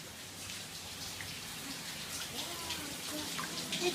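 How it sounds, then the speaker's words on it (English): Rain falls steadily, a soft even patter close by at low volume, with faint background sounds and no clear speech. "It's raining."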